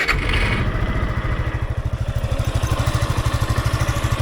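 A fuel-injected Suzuki Gixxer 155 motorcycle engine starts, a brief crank then a steady, close, rhythmic thumping idle that settles in and runs on its own.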